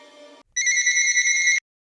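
Telephone ringtone: a short electronic tone burst followed by a brief gap, then a louder, brighter electronic ring lasting about a second before cutting off abruptly into silence.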